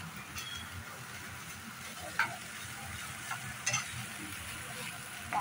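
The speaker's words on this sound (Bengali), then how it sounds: "মাছের ডিমের ভুজিয়া" Fish roe bhujia sizzling as it fries in a pan, a steady oily crackle with occasional clinks and scrapes from stirring, heard close up with no talking.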